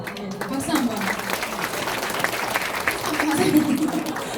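Audience applause breaks out at a Korean business seminar, a dense, sustained patter of many hands clapping throughout, with a speaker's voice carrying over it.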